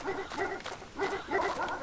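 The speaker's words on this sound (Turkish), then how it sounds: "Şimdiden bir ses daha bu köpeklerden" Dogs barking in the horror game Red Lake: a few quick, close, strained barks and yelps in short clusters, loud and harsh over a low background hum.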